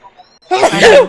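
After a faint moment, a single loud, sharp sneeze bursts out close by.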